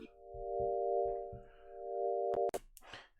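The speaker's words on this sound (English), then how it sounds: "This is like a electric piano sort of deal, possibly reversed, doing some big stereo stuff" Reversed electric piano with a wide stereo effect, a sustained swelling tone over soft pulsing low notes, ending in a few short sharp bursts.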